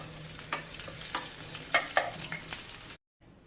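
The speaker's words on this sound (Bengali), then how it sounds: "আমি পেঁয়াজ কুচিগুলো দিয়ে দিলাম, কাঁচা ঝাল জিরা দিয়ে আমি ভেজে নেব।" Chopped onion, green chili and cumin fry in oil in a pan. A soft, fairly quiet sizzle carries a few sharper stirring scrapes, then cuts off abruptly into near silence.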